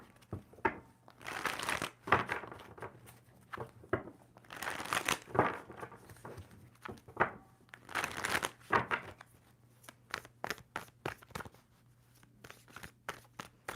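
A deck of tarot cards is shuffled close by in repeated quick riffles and crisp flicks, with rustling card slaps coming in irregular bursts and no talking over them.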